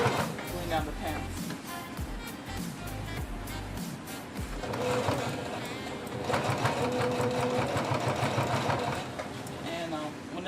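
A sewing machine stitches along a seam of pants fabric, running forward, briefly backward, then forward again with a steady fast whir close by, while a person talks over it.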